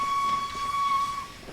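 A B17 steam locomotive's B key whistle in the Train Sim World 2021 video game blows one sustained, steady single-note tone under a faint rumble of the train.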